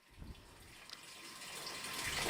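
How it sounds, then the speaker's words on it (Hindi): Water pours into the wash tub of a semi-automatic washing machine in a steady hissing gush that grows slightly louder, heard close and alone. "वॉश के साइड में रखने से इनके वॉश के टब के अंदर पानी गिरते रहते हैं"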